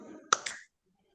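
Two sharp hand claps close together, the second slightly softer, following a stretch of low murmuring, then silence, during a classroom peer-teaching session.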